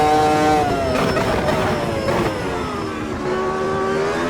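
A nearly 1,000-horsepower race car with a big engine and little downforce, driven in Automobilista 2, roars loud and close with a steady high engine note that rises and shifts in pitch as it revs through the run.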